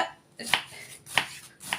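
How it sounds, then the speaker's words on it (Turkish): Three crisp knife chops through onions land on a cutting board at a slow, even pace, close by with no talking. "Bunları soğanları ben doğramakla başlayayım arkadaşlar."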